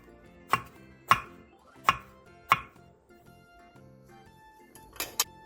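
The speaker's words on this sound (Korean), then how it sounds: "가지 2개를 길게 반으로 가른 뒤 먹기 좋은 한입 크기로 잘라주세요." Knife chopping two halved eggplants into bite-size pieces on a cutting board: four sharp, evenly spaced chops, a short pause, then two quicker cuts, close and clear with no talking.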